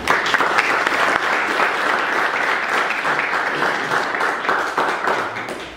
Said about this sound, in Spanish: Le damos pues la bienvenida a nuestro hermano y amigo con un fuerte aplauso.